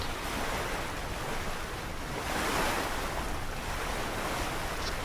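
Big ocean swells wash and rush steadily around the racing yacht American Eagle as it sails toward the Southern Ocean, with broad surf noise and wind buffeting the microphone, surging louder mid-way.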